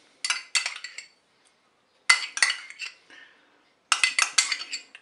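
Salad dressing of mustard and mayonnaise being mixed in a bowl, heard as three separate bursts of quick, close clinking and scraping of a utensil against the dish, with silent pauses between them and no voices.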